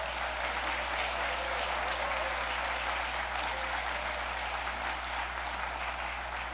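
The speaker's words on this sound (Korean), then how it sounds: "큰 박수 한번 함성으로 답변이 어떨까요?" Audience applause at a university's 50th anniversary ceremony, a dense, steady wash of clapping from a large crowd filling the whole stretch at an even loudness.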